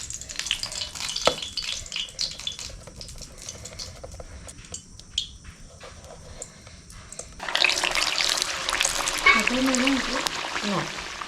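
Konkani kombdi vade sizzling as they fry in hot oil on a wood-fired chulha, quiet at first, then a loud, steady crackling hiss with bubbling that begins partway through and keeps going.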